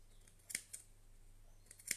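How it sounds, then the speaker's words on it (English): Scissors snip into the seam allowance of a sewn fabric scissor keeper, giving two quick, crisp metallic cuts spaced more than a second apart. Between the snips the room is quiet, with nobody talking. "I'm going to snip."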